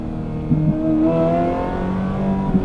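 A Ferrari F355 Berlinetta with a gated manual revs hard from the driver's seat, a loud, continuous engine note that climbs and holds steady with no talk over it.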